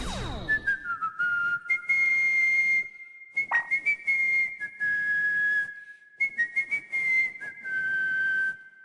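Clear, melodic whistling carries a K-pop song's intro tune in phrases separated by short pauses, with a steady musical accompaniment underneath.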